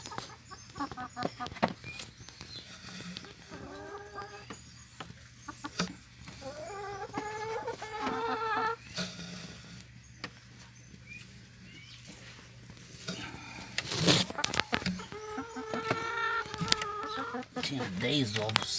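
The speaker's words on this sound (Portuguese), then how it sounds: "É tão mansinha essas galinhas." Tame farm hens cluck and murmur close by in a coop while eggs are collected, a run of soft, irregular clucks and trills, with a few louder squawks and some quiet talking and handling noise in between.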